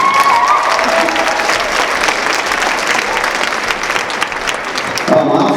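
A school assembly audience applauding at a Snowball assembly, loud steady clapping from a large crowd in an indoor hall that holds throughout, with a brief voice near the end.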